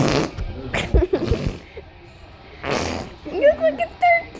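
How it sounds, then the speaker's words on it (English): Fart noises, likely made by a person, come in a couple of short, loud bursts, one held close to a phone, with people talking around them. "More fart sounds."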